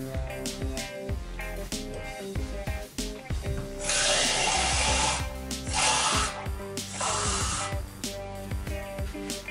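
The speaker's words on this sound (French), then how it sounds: "maintenant, je vais allumer mon feu." A gas stove burner is lit to cook rice, giving a steady broadband hiss that lasts about four seconds over continuous background music.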